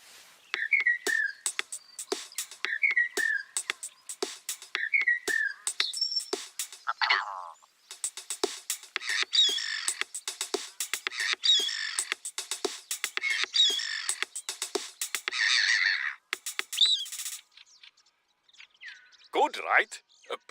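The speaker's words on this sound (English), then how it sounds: "We recorded the call of some birds and made this." Recorded bird calls cut into a short, playful song in the hunting game theHUNTER: Call of the Wild; repeated chirps, croaky squawks and whistles in quick rhythmic phrases, fairly loud and close, with no talking.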